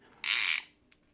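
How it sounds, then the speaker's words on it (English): A VANMASS car phone mount clamps down with a single short, bright ratcheting burst, close and alone, followed by a faint tick. "Clamps down, and like you can hear, that's a solid ratcheting mechanism."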